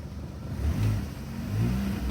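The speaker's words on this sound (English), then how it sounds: "just give it more revs and see if I can get this needle to move at all" A Mini R50/R52 engine with an overheating fault and suspected head gasket is revved twice, the idle swelling and falling back in a low steady drone, close by with no talk.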